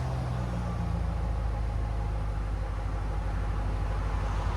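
A 2006 Ford Mustang GT with a 4.6L V8 and Valvetronic Designs mufflers idling: a steady, low, even rumble with a smooth burbling pulse, subdued and constant throughout, with no talking.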